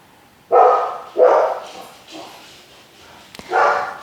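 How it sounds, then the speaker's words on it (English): Dogs indoors bark in four short bursts, loud and close, with brief pauses between them and a faint yip near the end. "Sorry guys, I have dogs."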